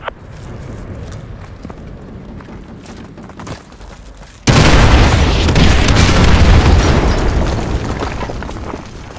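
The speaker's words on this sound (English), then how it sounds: "Artillery inbound." Artillery shells slam down in Modern Warfare 2 Remastered. Scattered distant crumps and pops are followed by a sudden massive close blast that becomes a long roaring rumble and fades slowly.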